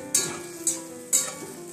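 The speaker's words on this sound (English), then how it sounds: "And this should be fried up to some extent." Rice and paneer frying in a pan for a Bengali home-style dish, a soft steady sizzle broken by about four sharp stirring scrapes spaced roughly half a second apart, close and fairly quiet with no talk.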